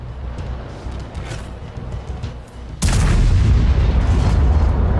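An artillery gun fires in a tank video game on a fjord map. A single very loud, close boom cuts in suddenly after a quieter stretch of engine and ambient rumble, then rolls on as a heavy, sustained roar.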